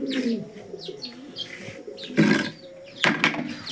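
Sirazi pigeons coo close by in soft, repeated throaty calls, with a couple of louder bursts of cooing and fluttery bird sounds.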